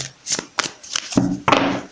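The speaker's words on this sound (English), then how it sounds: "Just give me a second and I'll shuffle it one more time." Several bursts of tarot cards being shuffled, crisp riffling flutters separated by short pauses, close and fairly loud.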